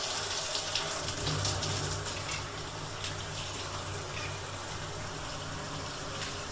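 A hotel shower at the Embassy Suites Jackson North in Ridgeland, Mississippi runs with a steady hissing spray and splash. The sound is even and continuous from start to end, heard at moderate distance with no voices.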